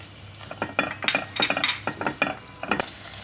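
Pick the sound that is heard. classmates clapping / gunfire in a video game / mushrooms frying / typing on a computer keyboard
mushrooms frying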